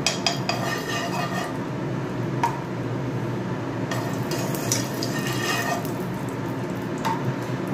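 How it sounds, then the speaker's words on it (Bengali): Small metal spoon scraping and clinking as it spreads ghee over a hot griddle turned down to low heat, making pitha for Poush Sankranti; steady close scraping with soft taps and a faint sizzle, no voices. "আমি ছোট্ট একটা চামচে করে লাগিয়ে নিচ্ছি গাওয়া ঘিটা"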